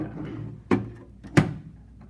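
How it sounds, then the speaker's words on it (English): A replacement lock mechanism slides into an Orbit timer cabinet door, making two sharp, close clicks about 0.7 seconds apart over a quiet background. "the old lock mechanism just slides out, and the new lock mechanism would just slide in like"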